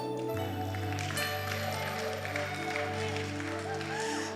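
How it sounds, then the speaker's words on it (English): A church congregation claps hands during a service, steady dense applause throughout over sustained organ or keyboard tones and music. "Can we give a louder hand to the Lord?"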